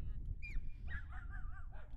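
Puppies give a short burst of high, wavering whimpers and yips, close and fairly soft, over a low background rumble.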